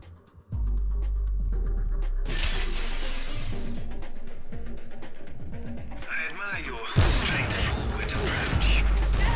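Glass shattering in the video game Tomb Raider Legend, with a loud crash around the two-second mark and a second bright, crunching burst later, both set against continuous in-game noise and rumble.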